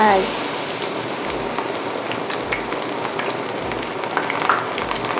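Japanese mushrooms go into hot oil for deep-frying, producing a loud, dense, continuous crackling sizzle from nearby that holds steady throughout.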